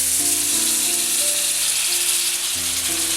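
Chicken pieces hit hot oil and browned spices for Zurbian rice, setting off a loud, dense, continuous sizzle close up with a faint rattling undertone. There is no talking.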